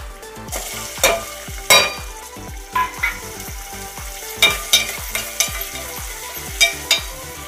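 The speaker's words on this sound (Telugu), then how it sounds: "వేగిపోయాయండి, ఇప్పుడు ఉల్లిపాయ ముక్కలు వేసేద్దాం." Onion pieces fry in a pan with dried chillies and curry leaves, giving a busy close sizzle punctuated by repeated clinks and scrapes of a spoon stirring against the metal.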